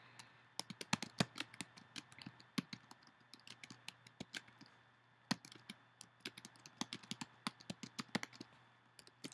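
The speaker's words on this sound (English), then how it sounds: "you just type directly into the text box whatever your caption is" Close, quiet typing on a computer keyboard while a caption is entered, with irregular runs of sharp key clicks and brief pauses, no voices.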